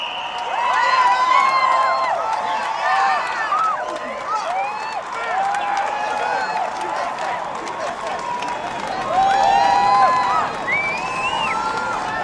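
Capacity crowd at a swimming center, a steady roar of cheering, whoops and whistles that keeps going throughout, swelling again near the end.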